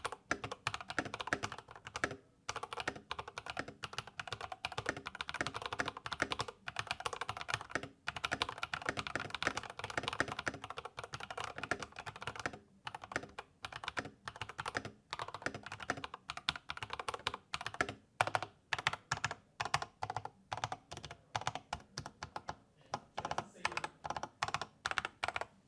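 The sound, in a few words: typing on Iqunix OG80 keyboard with TTC Speed Silver switches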